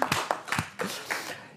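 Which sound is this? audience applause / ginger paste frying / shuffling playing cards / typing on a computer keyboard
audience applause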